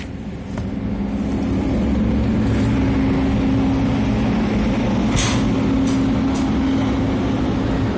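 Ship engines running and warming up aboard a ferry from Hull to Holland, a steady low drone with a constant hum throughout, close and loud, with a few faint clicks on top.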